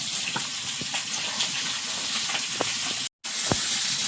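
Eggplant slices rubbed with salt and turmeric sizzle steadily in hot oil, a continuous close frying hiss with scattered pops, cut by a brief silent gap near the end.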